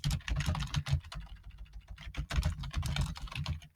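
Rapid typing on a computer keyboard, a dense run of close, crisp keystrokes clattering steadily with no pauses and no voices.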